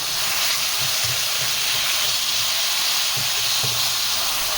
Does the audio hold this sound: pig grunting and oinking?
no